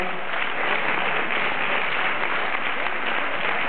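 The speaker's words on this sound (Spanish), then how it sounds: "Fuerte el aplauso." An audience at a tango championship qualifier at a milonga in Bahía Blanca applauds a dancing couple, with dense and steady clapping throughout and a faint voice underneath.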